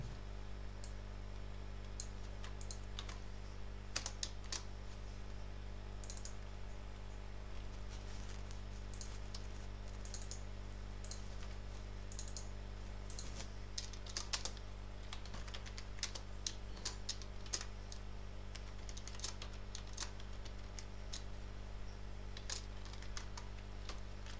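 Soft, steady typing of an SQL query on a computer keyboard, irregular key clicks over a constant low electrical hum, quiet and close with no talking.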